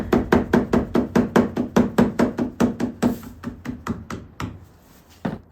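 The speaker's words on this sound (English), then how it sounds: "Oh, so much easier with a hammer." Steady rhythmic hammer taps setting weather stripping into a groove on an attic ladder, a quick run of sharp knocks that gradually grows softer, with one last firmer tap at the end.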